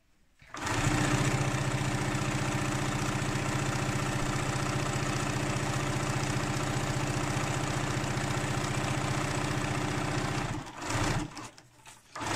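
A sewing machine runs steadily for about ten seconds, stitching fabric along a seam for a drawstring scrub wash bag, with a close, even mechanical whir before it stops and the fabric is handled.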